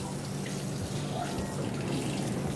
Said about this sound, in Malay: Basahkan air kat wajah dia semua.